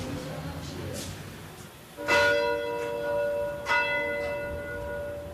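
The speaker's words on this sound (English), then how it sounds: "This is our little bell." A small prison church bell at a Louisiana penitentiary rings two clear strokes about a second and a half apart, each with a long ringing decay, over faint background hiss.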